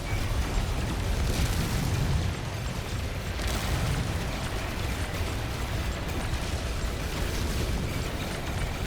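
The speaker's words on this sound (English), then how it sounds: "we're just using the basic photon cannon" A basic photon cannon fires in a space video game, with continuous dense booms and explosions rumbling loudly throughout and a couple of sharper bursts among them.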